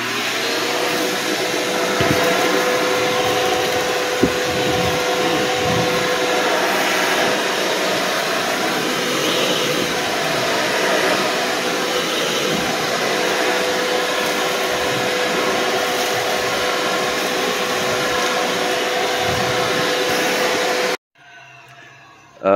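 A HART shop vacuum runs with its hose attached, a loud steady motor whine with rushing airflow that holds for about twenty seconds and then cuts off abruptly near the end.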